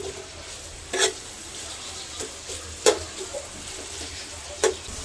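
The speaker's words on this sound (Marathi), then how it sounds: "आम्ही 1 किलो चिकनला अर्धा किलो कांदे घेतले आहेत आणि ते आता फ्राय करतोय तेलावरती, म्हणजे भाजून घेतोय." Half a kilo of onions frying in oil in a pan for homemade chicken biryani, with a quiet, steady sizzle broken by a few sharp scraping clicks of stirring.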